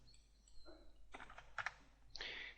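Keys tapped on a computer keyboard while entering a distance value in CAD software, a few short bursts of quiet clicks, close and soft in a still room, with a brief cluster of sharper taps near the end.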